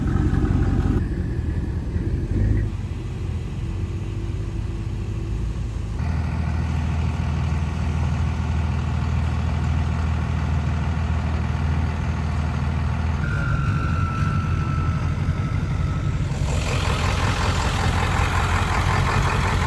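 Several trucks idle in open desert with a steady, loud engine rumble throughout, and a faint reversing beep joins partway through.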